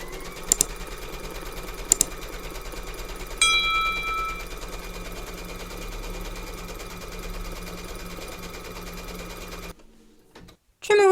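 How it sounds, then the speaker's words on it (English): An embroidery sewing machine stitches a placement line through batting in a hoop, keeping up a steady mechanical whir with a few sharp clicks early on, then falls quiet near the end. "Pop your hoop into your machine and stitch round number 2 to secure it."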